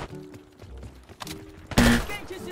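A short loud burst of gunfire in the video game Call of Duty: Black Ops 6, near and punchy after quieter game sounds, with a few softer thuds before it.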